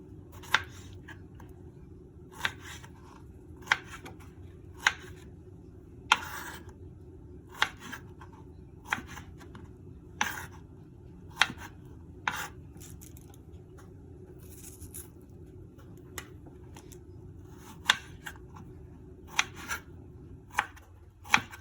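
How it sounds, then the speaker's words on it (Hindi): A knife cuts through fresh strawberries on a board, making a long series of crisp, close chopping taps at an uneven, unhurried pace over a quiet background. "तो अब स्ट्रॉबेरी को काटते हैं"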